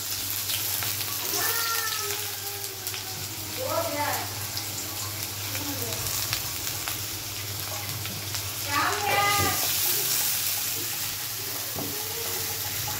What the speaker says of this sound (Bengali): পেঁয়াজটা একটু ভাজা ভাজা করব।